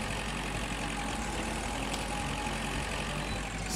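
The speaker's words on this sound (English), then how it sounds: "It needs to be pulled along by old Farmer Giles in his tractor." Steady, quiet engine drone of a tractor in Agricultural Simulator Historical, continuous low rumble without pauses or talk.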